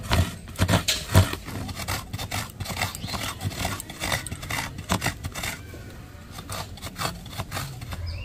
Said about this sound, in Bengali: পুর তৈরি করার জন্য আমি নারকেলটা কুড়ে নিচ্ছি।